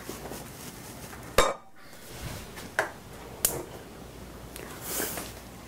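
Brief metallic clinks and scrapes from a spoon stirring in a pot on the stove while preparing food for hot-pack canning, a few sharp separate taps with quiet gaps between.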